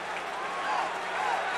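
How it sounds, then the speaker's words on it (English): A crowd at a baseball game cheers in a broad, steady wash of noise with scattered clapping, sustained and fairly loud for the whole moment. "Crowd continues to cheer."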